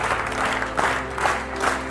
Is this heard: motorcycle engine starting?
no